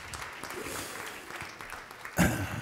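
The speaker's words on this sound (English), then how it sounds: "Give yourselves a round of applause also." A concert audience applauds after a youth jazz ensemble's set, a steady ripple of clapping that swells into a louder burst near the end.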